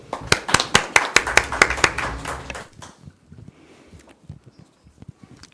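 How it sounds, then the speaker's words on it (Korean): An audience at a forum on the Korean Air and Asiana Airlines merger claps to welcome a speaker. Quick, close, rhythmic claps fill the first few seconds, then stop abruptly, leaving faint shuffling and room noise. "큰 박수로 환영해 주십시오"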